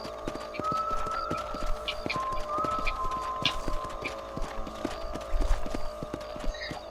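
Steady clip-clop of a small horse's hooves at a walking rhythm in the video game Red Dead Redemption, fairly close, with a brief whinny-like tone and faint background ambience.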